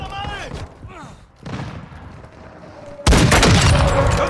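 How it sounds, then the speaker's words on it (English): Enemy gunfire in a video game, dense bursty shots with a loud, sustained barrage breaking out near the end, following a stretch where a voice talks over scattered lower-level firing. "I'm taking enemy fire!"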